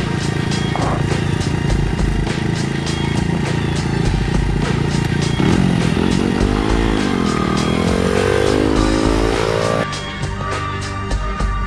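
Honda motorcycle fitted with an FMF exhaust, running loud and close with a rough, popping idle that swells into revs, rising and falling engine pitch, then settles back down near the end.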